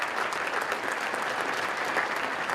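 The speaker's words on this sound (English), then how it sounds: "Please give them a round of applause." Students and audience at a high school Veterans Day assembly applaud in a steady, dense round of clapping that fills the whole stretch, loud and even with no pauses.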